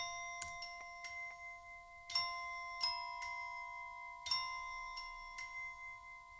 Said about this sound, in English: My go-to Glockenspiel is actually from Spitfire Audio Labs.